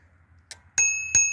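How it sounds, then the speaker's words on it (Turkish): The integrated bell on a Xiaomi Himo Z20 electric bicycle rings three times, a soft first ding followed by two brighter, sustained rings that linger and fade, close by over a low background hum. "entegre zil var."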